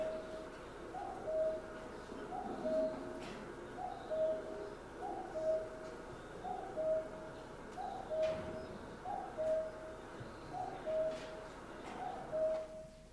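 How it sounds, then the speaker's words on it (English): A common cuckoo's repeated two-note call, steady and evenly spaced, heard at a moderate distance over a soft background hiss. "So here's a cuckoo, which is also,"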